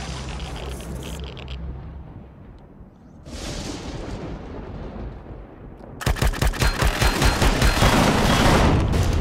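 Rapid gunfire in the space survival game Empyrion Galactic Survival, a dense rattle of automatic shots bursting loud after a lower rumbling lull, with heavy booming weapon fire earlier.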